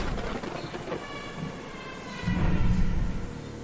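Old train in the open-world horror game Choo Choo Charles, a steady rolling rail rumble with metallic clatter that swells louder and heavier near the end, with no voices.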